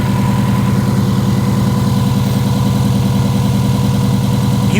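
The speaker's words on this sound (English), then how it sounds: "You can hear the misfire" A Mercedes GLE 450 with a reported misfire idles steadily up close, a loud, continuous low engine drone with a faintly uneven pulsing rhythm and no voices.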